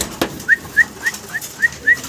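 A pair of butterfly running pigeons gives six short, evenly spaced calls in a regular rhythm, close and clear against a quiet background.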